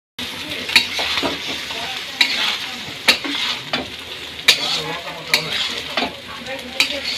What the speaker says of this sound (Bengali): এখন দিয়ে দিব ফ্রাইড রাইসের ভাত